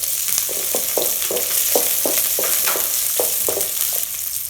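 Garlic and onion sautéing in a pan, a steady close sizzle with a series of short scraping stirs at an even rhythm.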